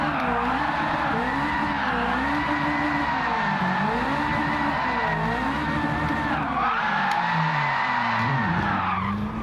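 An Alfa Romeo 4C with a swapped 740hp Ferrari 458 engine drifts in Gran Turismo 7, its tires squealing loudly and almost without a break, the pitch wavering as the slide shifts, over a steady engine drone.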